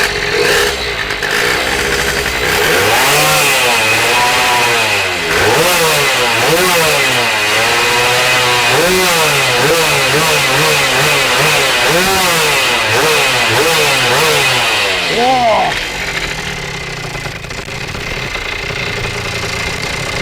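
A motorcycle engine is revved hard again and again, each blip rising and falling in pitch over a rough, loud idle, close up, before it settles back to idle near the end.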